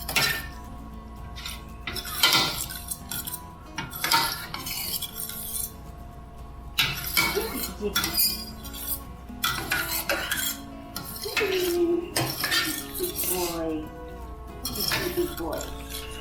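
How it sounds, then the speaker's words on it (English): A utensil stirs sauce in a pot, giving repeated clinks and scrapes against the metal with irregular rhythm, close and moderately loud, and a voice talks at times over it. "All right, let's stir that in."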